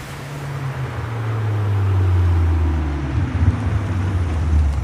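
Steady ocean wave wash in the video game World End Syndrome, with a loud roaring car engine droning low and swelling underneath, continuous throughout.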